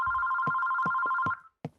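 A telephone rings in the horror video game Terroro. A loud electronic two-tone trill sounds close up, then stops, with a few soft knocks underneath.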